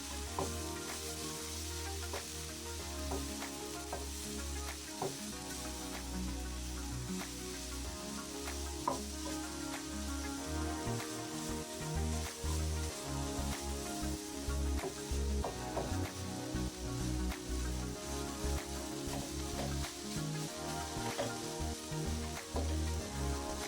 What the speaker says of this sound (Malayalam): ശേഷം ഒന്നുകൂടെ നന്നായി വഴറ്റിയെടുക്കാം.